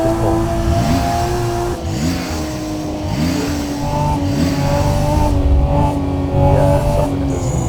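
A Porsche engine in the racing game Assetto Corsa, loud and up close, revs again and again in short rising blips that fall back each time, with no talk.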